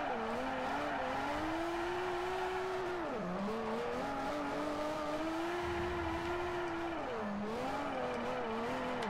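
Nissan 240SX drifting in the Forza 4 racing game, a sustained engine drone with long tire squeal that dips and recovers twice as the car slides and spins out, fairly loud and steady.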